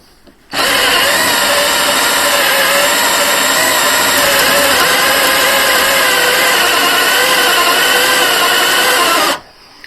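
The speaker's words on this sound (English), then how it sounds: "I think the drill's not got enough oomph." A power drill runs continuously at full speed for several seconds, loud and close with a strained whirring whine, boring into a crashed salvage Fiat 500 under repair, starting and stopping abruptly.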